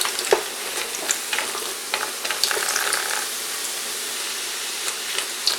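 Celeriac pieces browning in a dry pan with no oil give a steady crackling sizzle, broken by a few sharper scraping stirs near the start. The sound is close and constant throughout, with no talking.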